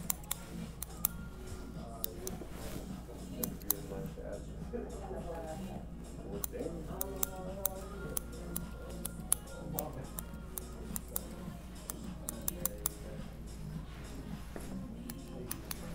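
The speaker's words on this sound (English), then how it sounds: "take it down with the scissors" Scissors trim a big beard and handlebar mustache at a barber's chair, making a steady run of small, close snipping clicks while a barber talks.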